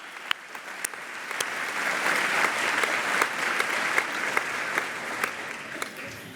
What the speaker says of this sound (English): Yeah, that does deserve a round of applause.